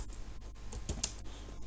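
Quick bursts of computer keyboard key clicks while code is typed, a short uneven run of taps close to the mic with a few louder strokes, no voice.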